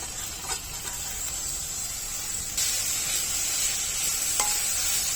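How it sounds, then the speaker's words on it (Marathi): Sprouted mung beans stir-fry in hot oil with a loud, steady sizzle and a few light clinks of a spatula against the pan, close by and without talk. "मूग तेलामध्ये चांगले परतून घेऊया"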